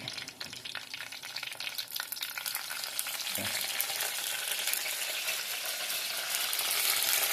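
Curry leaves sizzle in hot oil in a clay pot with a dense, steady crackling hiss that grows slightly louder toward the end, with a brief clatter midway.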